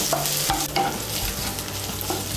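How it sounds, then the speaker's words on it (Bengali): Chopped coconut frying in a pan while it is stirred, with a steady close sizzle and light scraping, cooked for a Bengali chana dal tadka. No voices. "নারকেল কুচিটাকে একটু ভেজে নেব।"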